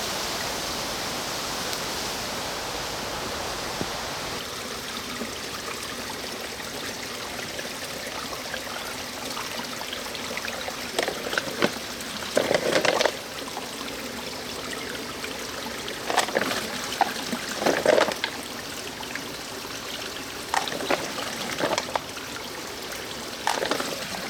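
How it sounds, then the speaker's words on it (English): A small forest waterfall stream in the UK pours steadily with a broad, constant rush of water, and brief louder splashes and gurgles come as water is collected. "I've just seen this little waterfall bit here. That's where I'm going to fill up the water."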